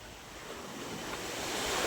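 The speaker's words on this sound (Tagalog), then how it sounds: "Kita yung alo na yan. Lalaki o." Steady rushing sea waves with wind at a seaside fish terminal in Tanza, a broad continuous wash that slowly swells louder, no voices.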